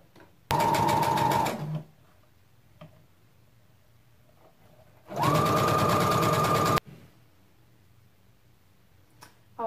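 An electric sewing machine stitches a long hijab robe in two separate bursts of rapid, buzzing needle action, each lasting a second or more, with quiet pauses and faint handling clicks between them.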